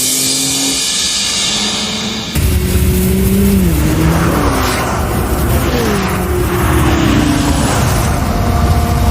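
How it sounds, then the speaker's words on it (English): Anime race cars roar onto the Kamaboko Straight during the Odawara Pikes Peak race. After a short lull, the engines burst in loud and close, revving and climbing in pitch as the pack accelerates. "the group fighting for that coveted third spot roars onto the Kamaboko Straight"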